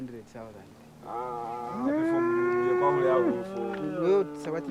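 Bulls and cattle being sold to a trader low loudly nearby, one long sustained moo rising and falling over a couple of seconds, with shorter calls and some voices around it.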